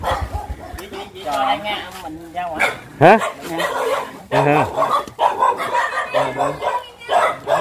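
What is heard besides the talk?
dogs barking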